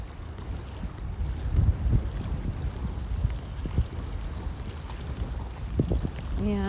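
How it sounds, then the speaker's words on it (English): Wind buffeting the microphone at a coastal estuary lookout, irregular low rumbling gusts that swell and fade over several seconds, with no talking. "we're getting so much wind in here too"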